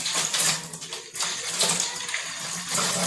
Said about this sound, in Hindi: अब हमें चाहिए कि इस खाली बोतल में गर्म पानी डाल दें